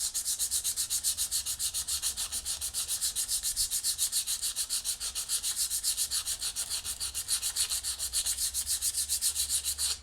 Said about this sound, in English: you're just going to take some sandpaper and just start working it back and forth across the